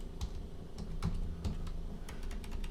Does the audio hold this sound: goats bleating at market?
no